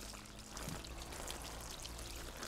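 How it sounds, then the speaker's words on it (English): Cold water running steadily from a hose over a burn, a faint, even pouring and trickling sound with no voices. "Cool the burn under cold running water for at least 10 minutes."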